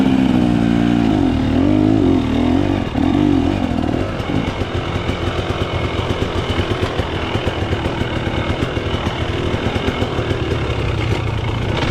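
A dirt bike engine on a single-track trail in Coldbrook, loud and close, rising in a rev at first then settling into a steady, pulsing throttle with choppy bursts throughout.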